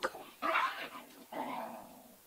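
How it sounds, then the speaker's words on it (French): A dog barks indoors, two or three close bursts with a whimpering, yipping edge, fairly loud against a quiet background. "le chien, parce qu'il est là"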